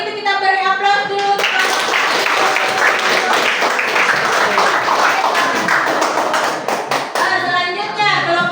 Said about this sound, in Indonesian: kalau gitu kita beri aplaus dulu